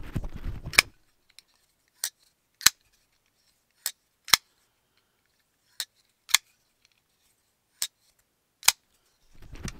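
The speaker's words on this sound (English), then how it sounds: "For a thumb stud knife, this is very fidgety, and it has a cool sound" A thumb stud folding knife is flicked open and shut repeatedly, giving about ten sharp, crisp clicks and pops spaced irregularly in near silence, close and distinct.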